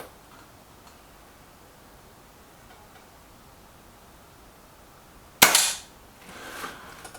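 A single sharp air rifle shot cracks out from a Kral NP02 or Reximex Myth at a target after several seconds of quiet room tone, followed by a faint brief rattle.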